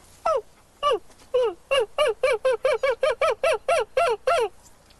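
A man imitates a screech owl, whistling a rapid series of about a dozen short, descending quavering notes in a steady rhythm, close and clear with no other sound.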